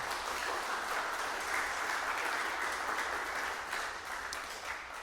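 Concert audience applause follows a trumpet and organ duo's Veterans Day program, a dense, continuous wash of clapping that holds steady for several seconds and eases slightly toward the end.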